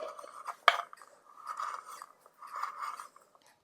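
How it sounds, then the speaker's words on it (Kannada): A knife cuts dry coconut (copra) into small pieces with soft crunching slices, one sharp chop, then slower rhythmic scraping cuts, close and quiet. "ಇದೇ ರೀತಿ ಎಲ್ಲ ಕೊಬ್ಬರಿಗಳನ್ನ ಕಟ್ ಮಾಡ್ತಾ ಬನ್ನಿ"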